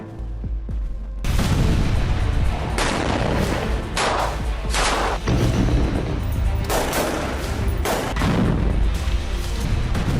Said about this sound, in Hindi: बीते 24 घंटों के भीतर इजराइल ने गाजा के कई इलाकों में भीषण बमबारी की।